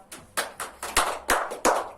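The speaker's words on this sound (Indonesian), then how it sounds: "Tepuk tangan buat Bu A." A small classroom group of adult trainees claps for a participant in a short burst of separate claps, about seven sharp hits, fairly quiet and close, with no talking over it.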